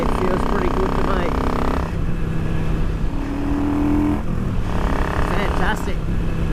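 Motorcycle fitted with velocity stacks, a crankcase breather and re-jetted carburettors, running with a loud, steady engine note that swells and eases, revving up near the end, while a voice talks over it.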